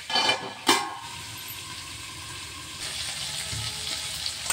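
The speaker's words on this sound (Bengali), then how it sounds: "কাঁঠালগুলি একটু ভাজা ভাজা হবে।" Steady, close sizzling of jackfruit frying in hot oil, with a couple of clinking stirs at the start.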